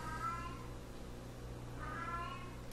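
A cat meows twice, drawn-out tonal calls separated by a pause, fairly close against a steady low background hum.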